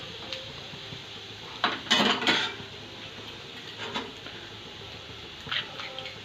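White sauce pasta being stirred in a pan over low gas, with a few soft utensil scrapes and clinks against the metal standing out from a quiet kitchen background, and no talking.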